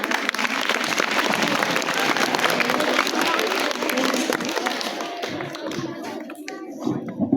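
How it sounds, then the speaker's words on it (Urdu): Audience applause at a school Iqbal Day programme, a dense continuous clatter of many hands that holds steady for about five seconds, then thins out and tapers off. "آپ کی بھرپور تالیوں میں۔"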